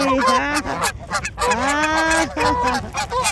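Geese honking loudly at close range while being fed behind a family house, a rapid run of nasal calls overlapping one another in quick bursts.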